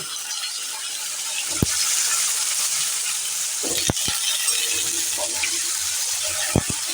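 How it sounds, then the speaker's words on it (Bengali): Small potato pieces fry in a pan for a turnip bharta, giving a steady hiss with a few sharp knocks from a spoon or the pan. "এই আলুগুলোকে আমি এখন ভেজে নেব"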